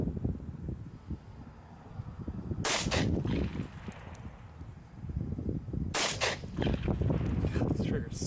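Two sharp 9mm shots from a Masterpiece Arms Defender pistol at an outdoor range, spaced a few seconds apart over wind noise, with someone talking between them.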